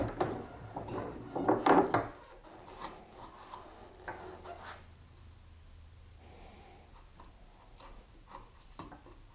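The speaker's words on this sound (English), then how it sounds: "At this point, I'll come back probably with a smaller chisel." A chisel pares waste from the corners of a wooden dovetail joint, giving close rasping, scraping strokes that cluster loudly at first and then taper into quieter, scattered scrapes and taps.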